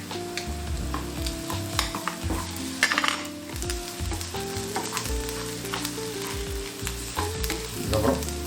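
Crushed garlic fries for a Tamil potato fry, a dense, steady sizzle of hot oil in a pan with clinks and scrapes of a spoon stirring throughout, close up and without talk.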